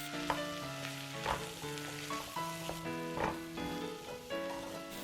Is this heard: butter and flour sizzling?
yes